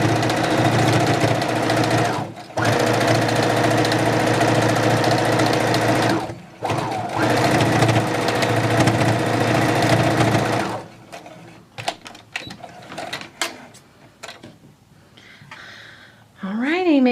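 A sewing machine stitches the final seam of a fleece fingerless glove in long steady runs, whirring loudly and close with two short pauses, then stopping; afterward come quiet handling clicks and a brief rising squeak.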